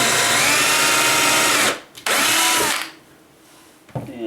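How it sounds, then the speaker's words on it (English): Power drill boring through a knot in wood, loud and close: a steady high whine that stops briefly, resumes, then winds down into quiet with a short final burst. "Nothing like drilling through a knot."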